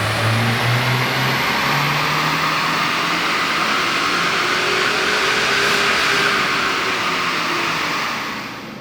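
A 2022 Subaru WRX on a new tune runs a dyno pull, its engine loud and close, revving steadily upward for nearly nine seconds before easing off at the end, with no talking.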